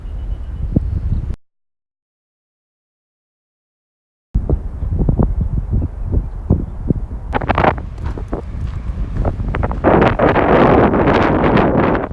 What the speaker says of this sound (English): and right on cue, windy.